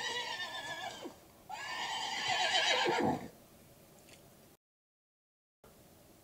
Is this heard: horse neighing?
yes